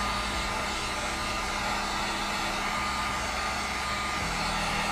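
A hot air gun blows steadily to heat hard acrylic tubing for a PC water cooling loop, a continuous close, even whooshing roar with no pauses.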